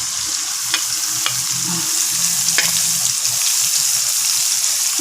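Green chillies and curry leaves sizzling loudly in hot oil for prawn sambal, a dense close crackle with stirring scrapes and occasional sharper pops, steady for the whole stretch with no talk.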